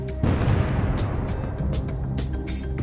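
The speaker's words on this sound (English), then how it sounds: "Another detonation occurs." A heavy, booming detonation of a Russian tank in combat erupts abruptly and rumbles on, followed by sharp crackling bursts and secondary pops over a sustained low roar.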